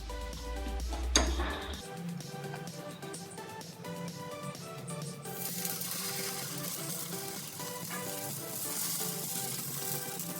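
Dosa batter for uttapam spread onto a hot buttered pan gives a steady, soft sizzle running beneath louder background music for the whole stretch.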